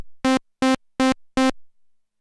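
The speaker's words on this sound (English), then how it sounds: "load an init program, and it should sound something like this." Korg Minilogue synthesizer playing its init program, four short, evenly spaced buzzy sustained notes at the same pitch, clean and close with silence between them.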